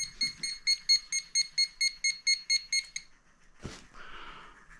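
Garrett pinpointer metal detector giving a rapid run of about a dozen evenly spaced high beeps as it falses, then a short thump and a brief rustle. The device is close and no one speaks.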